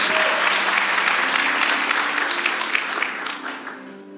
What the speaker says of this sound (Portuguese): Vamos dar um aplauso aí para ele